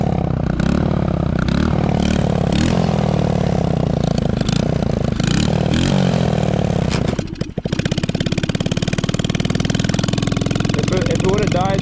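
A 110cc ATV engine running in a snowstorm on slick roads, a loud, steady rough engine drone with clattery harmonics and a brief dip in level midway, with wind and voices mixed in.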